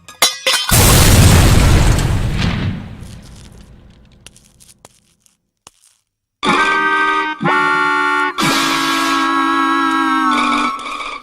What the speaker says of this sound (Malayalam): അയ്യോ ബോംബ്.